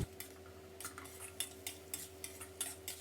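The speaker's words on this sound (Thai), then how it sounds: "แล้วก็เราผัดให้เข้ากันนะครับ ผัดให้เครื่องปรุงละลาย" A seasoning sauce of oyster sauce and water stir-fried in a pan for stuffed tofu: faint, quick clinks and scrapes of a utensil against the pan in an uneven rhythm, with no talking.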